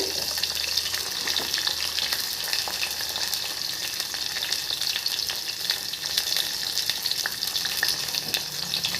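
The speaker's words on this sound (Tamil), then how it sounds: "கறிவேப்பிலை அதை போட்டு நல்லா வணக்குவோம் பாருங்கள்" Onion, garlic and curry leaves sautéing in a pan for a thorny nightshade gravy, a dense continuous sizzle and crackle with occasional stirring, close and steady throughout, no voices.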